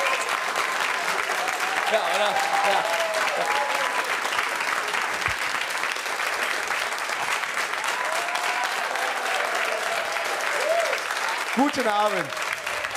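A packed stand-up comedy audience applauds and cheers as a comedian takes the stage, a sustained roar of clapping throughout while a voice speaks briefly over it near the end.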